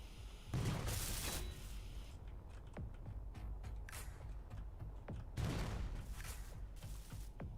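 Video game gunfire aimed at a Reaver ship comes as two loud bursts of rapid shots with scattered sharp single reports between them, moderately close over a steady background hum.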